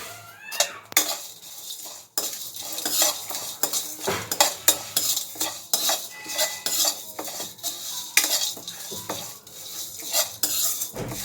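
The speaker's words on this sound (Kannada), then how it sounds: "ಇವಾಗ ಕರಿಬೇವು ಹಾಕ್ಕೊತೀನಿ ಸ್ವಲ್ಪ." Curry leaves go into a pan while horsegram curry cooks, bringing repeated clattering stirs and metal utensil scrapes against the pan over a light, intermittent sizzle, close by and with no voices.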